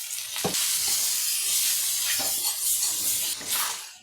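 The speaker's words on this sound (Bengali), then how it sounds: "মশলাটা আমি কষিয়ে নিয়েছি," Spice masala of turmeric, cumin powder, chilli powder and salt with chopped tomato frying in a pan for a bhetki fish head curry, a steady close sizzle broken by a few soft stirring scrapes.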